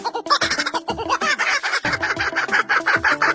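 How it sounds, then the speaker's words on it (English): A kookaburra lets out a loud, rapid, cackling laugh-like call that rises and falls in quick bursts, over a rhythmic background beat. "This is a kookaburra."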